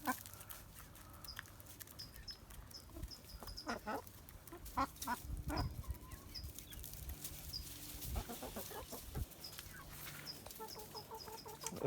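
Hens clucking inside a recycled backyard chicken coop, including a blue-red Wyandotte, with scattered calls, soft rustling and a flutter of movement close by, steady low murmur throughout.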